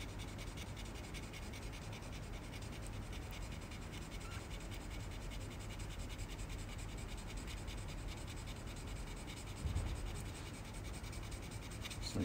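Steady rubbing of a coarse stone over an engraved Purdey gun part, a faint, continuous gritty scrape that runs evenly throughout with a brief louder pass near the end.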